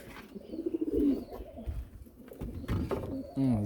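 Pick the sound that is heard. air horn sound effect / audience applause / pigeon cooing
pigeon cooing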